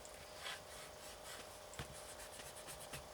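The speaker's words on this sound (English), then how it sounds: "so I'm just going to rub out those faint ones." An eraser rubs over faint pencil marks on card in quick, soft back-and-forth scrubbing strokes, close and quiet, heard alone without talk.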